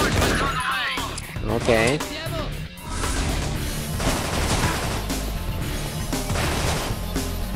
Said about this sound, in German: Das Dumme ist an diesem Höllenfeuer, dass ich immer nur einen Schuss habe und den muss ich treffen.